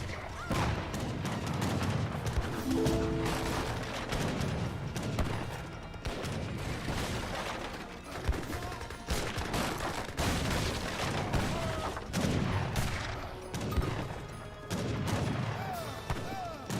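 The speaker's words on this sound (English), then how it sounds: "And all those Gatling guns do go down." Gatling guns and other units firing in an Age of Empires 3 battle, with dense, rapid volleys of gunfire and booms rolling continuously, loud and busy throughout, with a voice faintly present.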